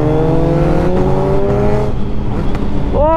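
A 2021 Kawasaki Z900 motorcycle with a quickshifter pulls hard through the gears, its loud engine note rising in pitch, dropping sharply on each quick shift and climbing again in a steady sequence.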